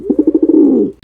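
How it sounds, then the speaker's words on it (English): A pigeon coos close up, a short loud rolling series of throaty pulses that merges into a sustained falling coo, heard alone with no talk. "you could just have a pigeon."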